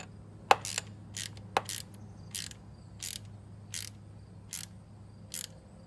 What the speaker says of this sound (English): Also notice how I'm using my small ratchet.